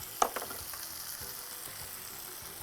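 Curry leaves and coriander tossed into a frying biryani mixture, a soft steady sizzle with a brief clatter at the start and light stirring scrapes afterward, no voices.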